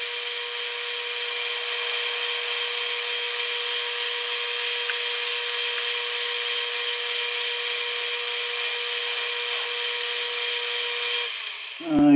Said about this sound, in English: if I use a 5/8 end mill on the end of the aluminum, that'll give a nice easy pocket for that